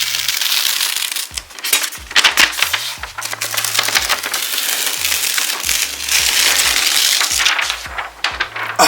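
DTF transfer film being peeled from a heat-pressed sweatshirt, a loud close crackling, tearing rustle in irregular bursts lasting several seconds with a low background hum.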